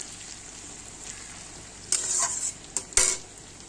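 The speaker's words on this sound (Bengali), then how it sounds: "দেখো আলু পেঁয়াজটা কিন্তু আমি হালকা করে ভেজে নিলাম।" Potatoes and onions fry quietly in a pan for an egg curry, a soft low sizzle under a few louder stirring scrapes and utensil clinks near the end.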